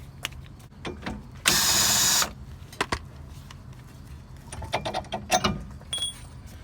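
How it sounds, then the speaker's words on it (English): Last 18 mm lower bolt coming out during strut replacement on a 2011–14 V6 Dodge Charger: scattered metallic clicks and clanks around one loud, sustained power-tool whir lasting under a second, then more rattling and tool handling. "now we gotta take out the last bolt down here"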